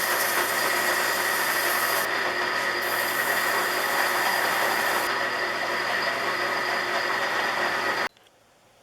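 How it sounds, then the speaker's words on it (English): A drill press spins wooden knobs from a Stanley No. 10 carriage maker's rabbet plane while sanding off their old finish, making a loud, steady whirring hum that runs unbroken for about eight seconds, then stops abruptly. "The drill press is great for taking the old finish off and sanding the knobs."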